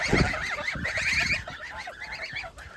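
Several geese of mixed ages honk and cackle close by in a farmyard, with loud overlapping calls that are strongest at the start and then continue more sparsely.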